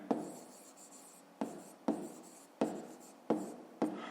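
A pen or pencil writes numbers during a fifth-grade math exercise, a close scratching on paper in about six strokes, each beginning with a tap and then trailing off.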